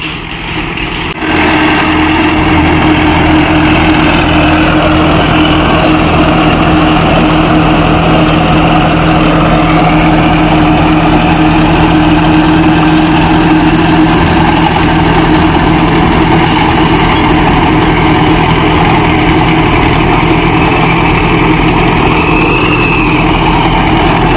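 A Mahindra 605 Novo tractor pulling a rotavator across farmland runs continuously, its engine a loud, close, steady drone that holds level throughout with no talking over it.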